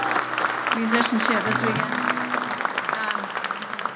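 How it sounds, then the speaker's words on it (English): Audience applause for a music director at a conference gathering, broadband clapping running under a voice speaking over it throughout. "Everybody give him a warm round of applause"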